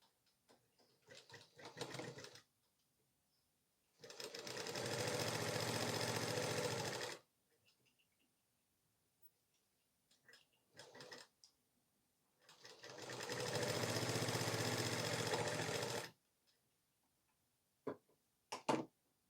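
A sewing machine stitches the armhole of a 40-inch blouse twice, two sustained loud runs of rapid whirring separated by quiet gaps, with softer handling clicks and short bursts in between.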